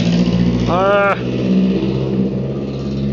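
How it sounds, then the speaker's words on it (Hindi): A car passes by outside, a brief engine and tyre swell under someone talking nearby, rising and fading within a few seconds. "ये गाड़ी की आवाज़ आ गई, सॉरी फॉर दैट।"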